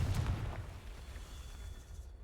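A Confringo fire spell from the Hogwarts Legacy video game bursts with a short, muffled boom at the start, then fades into a faint low rumble.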